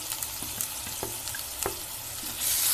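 Spice pastes of dried chili powder, green chili, onion and nut paste fry in oil for a prawn malai curry, with a continuous loud sizzle and occasional spoon scrapes against the pan.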